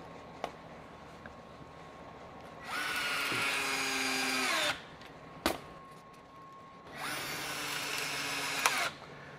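A Ryobi 18V ONE+ 1/4 inch hex cordless screwdriver fitted with a hex driver bit runs in two close bursts of about two seconds each. Its motor whine winds down at the end of each burst, with a short pause between them.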